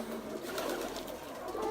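Pigeons in a loft coo in a soft, continuous murmur, with several birds blending into a dense, moderately loud backdrop and no voices.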